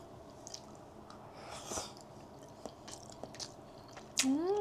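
Close, soft chewing of grilled eel from a lunchbox, wet squishy bites repeating irregularly, ending with a brief humming voice of pleasure.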